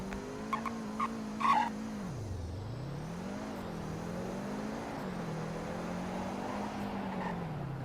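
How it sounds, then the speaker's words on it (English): A car braking hard in the Roblox game Greenville, a few short clicks followed by a long tire skid with a wavering engine drone that dips and recovers, fairly close and alone. "Now let's check out the brakes."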